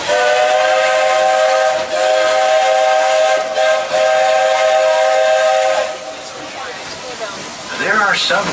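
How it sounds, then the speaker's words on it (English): Walt Disney World Railroad steam train at Magic Kingdom sounds a long, steady whistle with two brief breaks, followed by hissing steam and a rising, fluttering tone near the end. "There are some who say that this steam train is a little old-fashioned"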